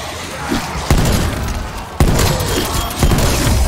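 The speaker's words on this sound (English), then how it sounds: "Going in with hand cannon!" Heavy booming hand cannon shots fire in a loud, chaotic battle in Call of Duty Black Ops Cold War Zombies, three big blasts roughly a second apart over constant rumbling noise.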